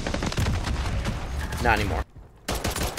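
CoR-45 pistol gunfire in Call of Duty, sharp shots packed together through the first two seconds under a voice, then a brief near-silent gap before the shooting resumes.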